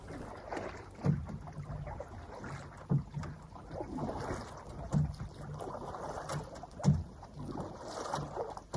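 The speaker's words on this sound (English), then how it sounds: "If the wind dies, you pick up the oars." Oars working a log catamaran on open water, with four soft, regularly spaced splashy strokes about two seconds apart over a steady wash of water and light wind.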